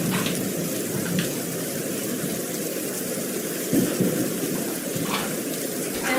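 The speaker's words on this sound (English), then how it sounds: "Sounds like it's pouring down rain." Steady rain recording played back for relaxation, a continuous pouring patter with a few faint rumbles, moderately loud and steady throughout with no one talking.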